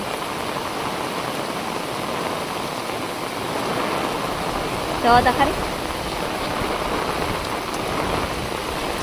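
Floodwater after record heavy rain rushes over a farm path, a steady broadband wash of flowing water at close range, with a person speaking briefly over it.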